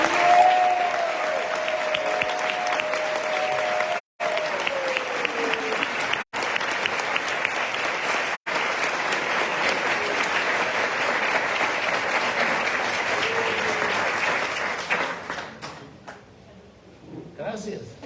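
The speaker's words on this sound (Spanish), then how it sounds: "por favor saludemos con un caluroso aplauso a" Warm, sustained applause from an audience welcoming Hridayananda Das Goswami at a Sunday gathering at ISKCON Buenos Aires, dense and steady for about fifteen seconds with a few brief dropouts, then fading as voices take over.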